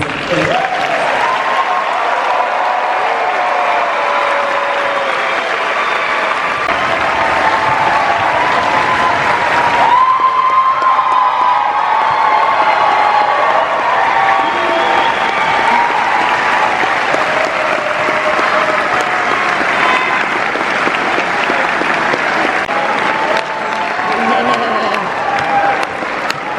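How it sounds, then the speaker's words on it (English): An audience at a medical school graduation ceremony applauds the graduating class in long, sustained clapping with some crowd cheering and voices mixed in, swelling briefly midway and staying loud throughout. "please join me in one more round of applause for our class of"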